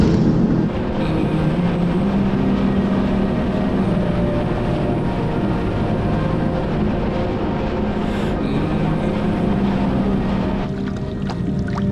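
A WaveRunner personal watercraft on Lake Winnipesaukee, a steady loud engine drone with water rush and wind buffeting, continuous throughout without a break.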